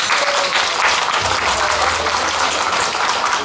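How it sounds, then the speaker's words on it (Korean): Loud, dense audience applause at a lively Korean pumba entertainment show, a steady wash of many hands clapping that fills the whole stretch with little variation. "우리 엄마 앞에 시원하게 박수 한번 쳐주시면 감사합니다"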